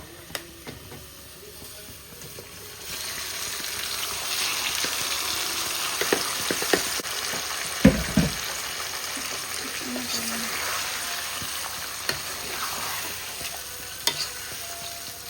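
Marinated chicken fries in a pot with onions, first as a low hiss and then as a louder steady sizzle with occasional spoon knocks and scrapes.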